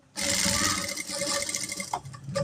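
Sewing machine running in a fast continuous whir while stitching piping around the corner of a garment neckline, close and loud, with a brief pause and restart near the end.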